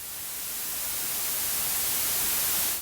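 The demo version of the TAL-Pha synth plugin puts out a steady hiss of broadband white noise that swells slightly and then cuts off abruptly at the end, with nothing else in the sound.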